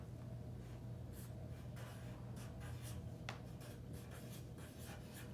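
A pen writing numbers by hand on paper, quiet scratchy strokes in short bursts over a low steady hum, close and faint.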